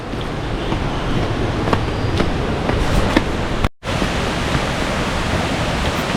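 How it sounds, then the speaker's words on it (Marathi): Loud, constant rushing water roars in a broad, steady wash of noise at Dhutpapeshwar Temple in Rajapur, briefly cut off once before resuming. "सुंदर असा पाण्याचा आवाज आहे ते"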